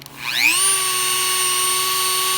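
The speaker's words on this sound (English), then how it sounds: "Now, on the Dremel, you want to start it off low" A Dremel rotary tool spins up from a low start to a steady high-pitched whine while polishing a Honda GCV160 lawnmower carburetor, heard close and alone.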